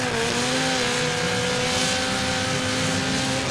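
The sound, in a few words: race car engine at Bash for Cash banger racing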